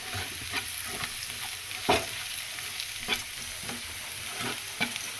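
Onion-garlic masala with Kashmiri red chili powder sizzles in a pan for goat brain fry, with a steady fry hiss and intermittent scraping stir strokes close by, with no talk.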